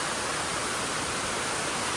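Heavy rain pours steadily in a dense, even hiss, loud and close, with no break throughout.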